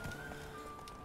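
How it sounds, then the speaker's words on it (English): Horse hooves in The Witcher 3: Wild Hunt give a soft, steady clip-clop of a running game horse, fairly close and continuous over a short stretch with no talk. "Roach is doing a Red Dead Online horse right now."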